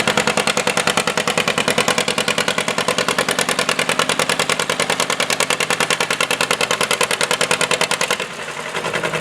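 At the Stoneboro fair, an engine runs loud and close with a rapid, even pulsing chug as a vehicle smooths the dirt track, dipping briefly near the end before picking back up.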